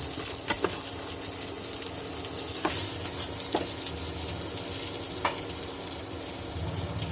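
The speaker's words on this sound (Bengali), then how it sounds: "এবার কাঁচা লঙ্কাগুলো দিয়ে দেবো" Green chillies frying in a little hot oil with nigella seeds for a traditional radish chechki give a steady, close sizzle with faint crackles and a few sharp clicks of stirring throughout, with no talking.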